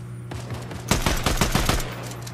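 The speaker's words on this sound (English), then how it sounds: "Who's shooting at you?" Video game gunfire comes as a rapid burst of loud, close shots in quick succession, following a low engine-like hum.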